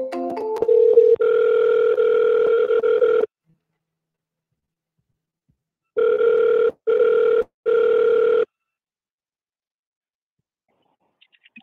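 A phone call starts with a brief flurry of dialing tones, then a long electronic ringback tone, silence, and three shorter rings in quick succession before the line goes quiet.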